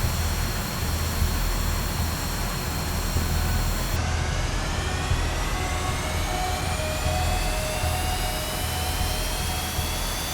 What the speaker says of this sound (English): Rotate. And the aircraft takes off.